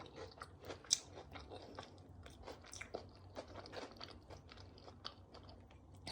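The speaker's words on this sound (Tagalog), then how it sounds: "Malutong siya, guys. Pakinggan nyo," Close, quiet crunching as a crispy, flat homemade tuna fishball is bitten and chewed, with a series of brittle crackles and scrapes over several seconds and no talking.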